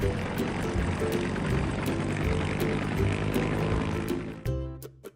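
An ambulance helicopter's engine roars loud and steady overhead, then abruptly drops away near the end.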